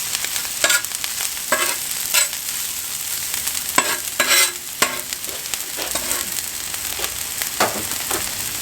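Food sizzles loudly on a Blackstone griddle, a dense constant crackle close by, broken by occasional sharp scraping clicks of a spatula and no voices.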